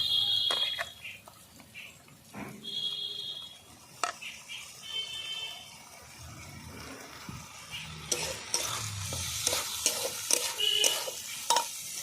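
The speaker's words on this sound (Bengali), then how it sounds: "এবার আমি ডাল দিয়ে দেবো ডাল ধুয়ে রাখা ডালটা পুরোটাই দিয়ে দেবো" Washed masoor lentils are tipped into fried masala for an egg dal and stirred, giving a close sizzle with scraping and clattering stir strokes, the frying getting louder and busier as the lentils go in.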